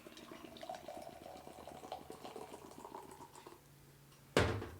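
Soda pop poured hard into a cup, a fizzy liquid stream with faint crackling bubbles for several seconds, then the pour stops, leaving quiet hiss before a brief loud knock near the end.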